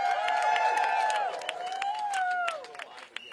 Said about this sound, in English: One more round of applause for Sarah Taylor.